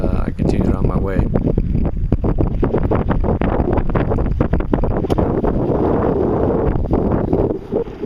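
Steady wind buffets the microphone on a sailboat running downwind on a port tack, a loud continuous rush with the boat's movement and splashing mixed in, and a voice speaks faintly underneath.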